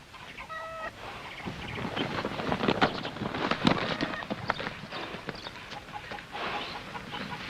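Horse hooves clip-clopping at a steady gait on a western ranch in 1951, a rhythmic run of hoof knocks under a busy mix of farmyard noise, with a rooster crowing briefly near the start.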